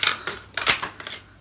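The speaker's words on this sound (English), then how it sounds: "I'm going to cut those out" Scissors snipping through folded card to cut out a pair of wings, a few quick crisp cuts in close succession, up close and alone with no talking.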